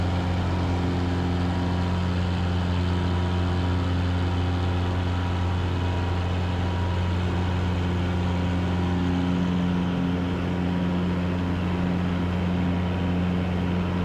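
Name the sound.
Cessna Cardinal engine at full power during takeoff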